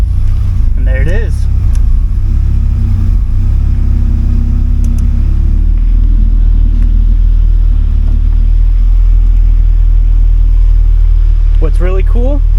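A turbocharged B16 engine in a 1992–95 Honda Civic idles after a push-button start, a loud, steady low rumble filling the whole stretch while people talk over it.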